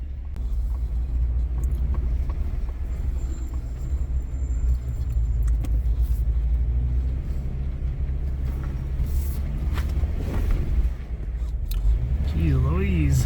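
An off-road vehicle rolls down a steep hill in the Anza-Borrego desert, its engine a continuous low rumble with faint creaks and rattles throughout and a brief voice near the end.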